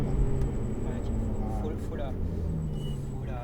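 A Ferrari F8 Tributo on the Le Mans Maison Blanche circuit brakes hard and downshifts twice, its engine note stepping through blips beneath steady close road and cabin noise, with someone talking over it.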